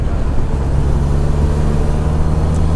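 A Honda CBR 650R motorcycle fitted with an aftermarket exhaust cruises in fifth gear, its engine giving a loud, steady, deep drone with a constant low rumble and no pauses or speech.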